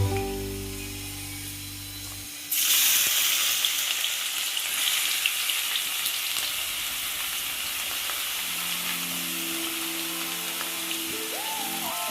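Chopped onion drops into hot oil already seasoned with whole garam masala spices: after a few seconds of quiet tonal background sound, a sudden loud sizzle bursts out and settles into a steady, close, hissing fry.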